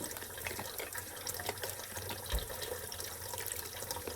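Water sloshing and splashing continuously in a small basin, with trickling and gurgling close by and no voices.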